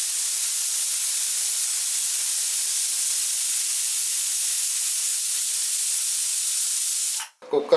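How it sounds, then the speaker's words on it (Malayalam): A pressure cooker holding carrot and beetroot vents steam in a loud, unbroken hiss that runs for several seconds, then cuts off abruptly. "കുക്കറിൽ സംഭവം ഏകദേശം ഒരു 3 വിസിൽ വരെ കഴിഞ്ഞിട്ടുണ്ട്"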